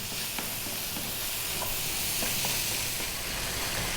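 Tomatoes cook down in a pan for restaurant-style Indian shrimp curry, making a dense, even hiss and sizzle with a few faint stirring knocks.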